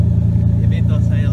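A Toyota Supra's engine gives a loud, close, steady low rumble that throbs without letting up, while people talk over it.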